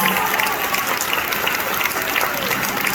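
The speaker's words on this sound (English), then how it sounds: "Please give them a big round of applause." A crowd at a high school graduation claps steadily and loudly, continuous applause without a break.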